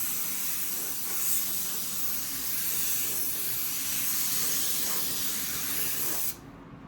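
A spray gun shoots base coat over bare metal at roughly 21 to 22 PSI, one close, continuous hiss lasting several seconds before cutting off abruptly.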